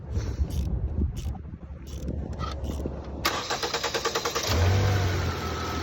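A Fiat car's engine cranks and starts after a new alternator install, then settles into a steady idle with a rising rev; the start-up comes after a few seconds of quieter shop noise.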